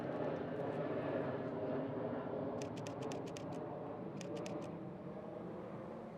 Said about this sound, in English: And there is another jet going over.